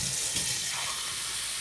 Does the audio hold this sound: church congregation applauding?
no